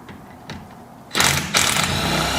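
An impact wrench loosens the bolts on a Dodge Challenger driveshaft, after quiet shop sounds comes a loud close buzzing burst, a brief pause, then a second longer burst.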